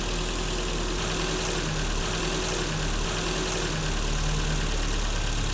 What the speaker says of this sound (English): So we're at about a 900 RPM, 1000 RPM at idle in park, which is brand new.